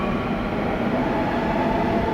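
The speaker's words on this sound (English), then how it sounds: "Beautiful train system. They're lucky to have this here." A train on the Kochi rail system in India rumbles past in a steady, loud, continuous roar with a broad low-end drone, no voices present.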